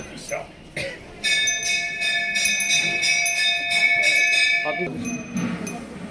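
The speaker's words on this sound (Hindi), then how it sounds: "घंटी बजाइए जल्दी चले के।" A small hand bell rings steadily during a Hindu aarti prayer ritual, bright sustained tones continuing for several seconds amid background voices and movement.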